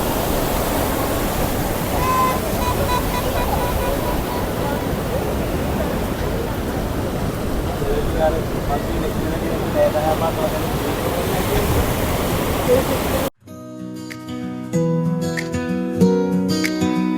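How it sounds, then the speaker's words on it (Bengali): Rough sea off Colombo's Galle Face roars as a steady, loud rush of breaking surf and wind for most of the stretch before it cuts off abruptly into music. "কি উত্তাল সমুদ্র, বিশাল ব্যাপার।"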